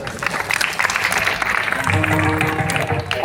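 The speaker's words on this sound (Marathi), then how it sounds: "टाळी वाजवा" Audience clapping at a kirtan devotional gathering in Solapur, a dense burst of applause that swells and carries for several seconds, with voices and a sustained tone rising beneath it in the second half.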